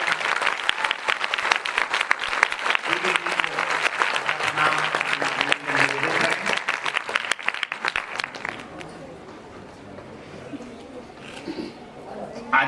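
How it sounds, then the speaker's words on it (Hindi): An audience at a Shabari Mata Jayanti celebration breaks into lively applause that stays loud for about eight seconds, then fades to sparse scattered claps and quieter room noise. "आइए हम सब तालियों के साथ"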